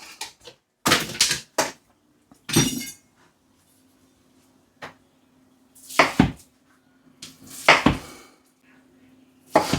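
A knife roughly cubes tinned corned beef for hash. Loud, clattering chops come in irregular clusters with quiet gaps between them, over a faint steady hum.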